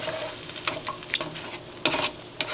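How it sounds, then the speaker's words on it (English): A couple of eggs scramble in hot grapeseed oil in a pan, a steady sizzle punctuated by a series of quick, close utensil taps and scrapes as they are stirred; no voices. "Just scramble the egg."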